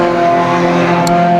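Junior sedan race cars at a KJB Junior Sedans heat on a wet track, engines droning steadily and loudly as they run down the main straight, with a brief high hiss of spray or tyre noise near the end.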